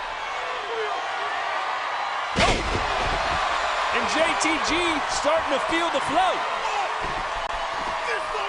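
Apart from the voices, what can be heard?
wrestler's kicks landing on opponent's back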